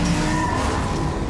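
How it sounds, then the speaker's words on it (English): Engine roar and screeching tire skids from The Crew 2 racing game blend into a dense, loud, continuous wash of motor and rubber noise, with no voices present. "The roar of the engine."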